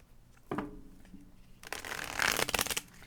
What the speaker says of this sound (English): One more shuffle, two more shuffles, two more shuffles.